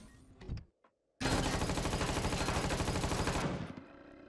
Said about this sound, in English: we'll have to use the CRX combat rifle